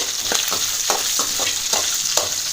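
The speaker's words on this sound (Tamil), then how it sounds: "இப்போ நல்லா வதக்கலாம்." Small chopped shallots sauté in hot oil for a ridge gourd and moong dal kootu, a steady bright sizzle with regular scraping stirs about every third of a second, close and alone.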